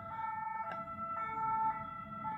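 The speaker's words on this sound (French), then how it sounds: "c'est les ambulances." An ambulance siren sounds faint and distant, its two tones alternating steadily above a low rumble of traffic.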